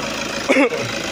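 A vehicle engine idles after its EGR system has been cleaned, giving a steady, even hum throughout, with a brief human voice sound cutting in over it near the middle.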